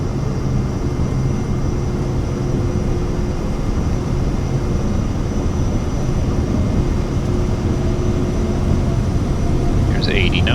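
A Vision Jet G2 in a flight simulator holds a steady, loud engine drone at takeoff thrust, a broad continuous roar with a faint tonal whine that barely changes across the whole stretch.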